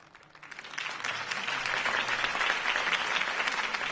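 In Batman: The Telltale Series, a crowd applauds after a campaign speech. The applause swells quickly from a quiet start into a broad, sustained wash of clapping that carries on to the end.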